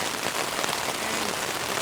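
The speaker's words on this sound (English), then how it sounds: "she's got a bit worse," Heavy rain hammering steadily on a camping tent beside Copeton Dam, a dense, unbroken close-up patter with no voices.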